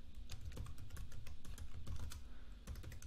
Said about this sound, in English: So I can also type,